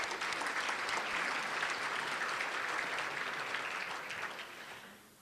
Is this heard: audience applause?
yes